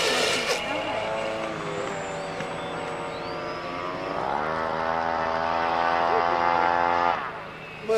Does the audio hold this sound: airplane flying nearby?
yes